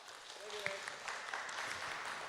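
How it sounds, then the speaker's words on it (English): At the Honor of Kings Open EMEA Finals esports event, an arena crowd applauds the champions in a continuous, fairly soft wash of clapping, with a voice talking faintly over it. "Big round of applause again for our champions."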